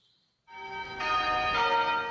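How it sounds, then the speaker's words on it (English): Church bells ringing in Cape Town in tribute to Archbishop Desmond Tutu, a resonant bell strike entering after a brief silence and swelling with a second strike, long ringing overtones sustained and clear, no voices. "bells ringing out for 10 minutes in Cape Town, honoring Archbishop Desmond Tutu"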